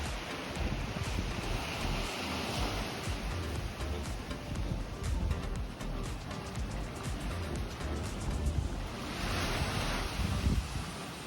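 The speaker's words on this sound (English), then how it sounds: "gazed at this beautiful blue ocean and chilled out for an hour or two, enjoying the breeze and the waves" Ocean waves roll in steadily at Kapalua Bay, Maui, with breeze buffeting the microphone, a continuous surf wash with swells building and easing.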